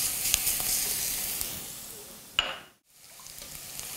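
Two cloves of crushed garlic frying in a pan for a leek risotto, a soft continuous sizzle with a few stirring scrapes, briefly cutting to near silence before the hiss resumes.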